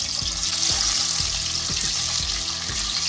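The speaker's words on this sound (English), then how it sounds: "Take a small pan and add all the pieces of fish and fry them." Rohu fish pieces frying in a small pan, a steady bright sizzle with soft periodic clinks and scrapes of stirring, close and continuous.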